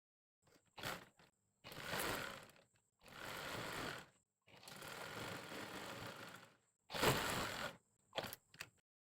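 A sewing machine stitches a Panjabi sleeve in several separate runs, each a steady whirring buzz lasting a second or two, quiet and close with short gaps between.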